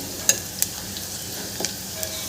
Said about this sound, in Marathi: मी कांदा छान ब्राऊन करून घेत आहे शिजून घेते